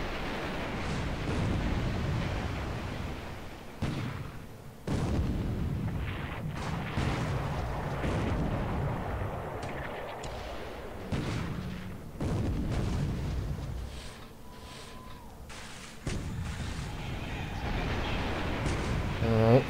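The heavy cruiser Salt Lake City's primary battery fires on Paguro in a War in the Pacific naval engagement, with deep booming blasts and rumbling explosions rolling on continuously, punctuated by sharper individual reports.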